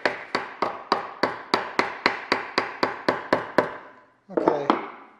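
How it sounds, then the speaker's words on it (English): A hammer strikes aluminium sheet for a Bearhawk airplane's horizontal stabilizer, held in a vise over a backer block: about a dozen sharp metallic blows in a steady rhythm, a short pause, then a final cluster of hits. Close and loud. "now that I'm hammering down and starting to put a little more force into it"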